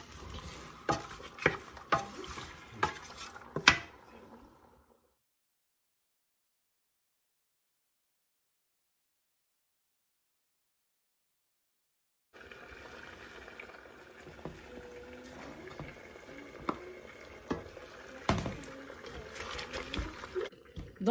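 Chicken and onion frying in a pan: soft sizzling with clicks and scrapes of stirring, then a long silent gap before the crackle and scraping resume, faint throughout.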